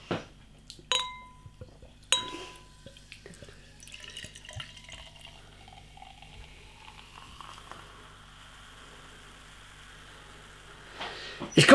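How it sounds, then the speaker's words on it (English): A Swedish raspberry sour stout is poured from a bottle into a glass: a couple of sharp glass clinks, then a steady quiet fizzing pour with faint liquid trickles, ending in a louder rush. "Let's get the beer out into a glass and see what we get."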